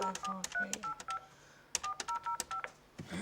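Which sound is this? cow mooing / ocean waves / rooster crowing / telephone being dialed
telephone being dialed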